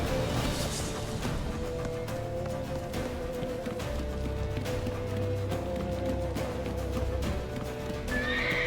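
In a video game, a horse whinnies loudly at the start, then hooves clip-clop steadily under a dense layer of background game noise and music, with another brief neigh near the end.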